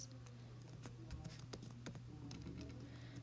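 An email address is typed on a computer keyboard: quiet, irregular key clicks tapped in short bursts, close and alone.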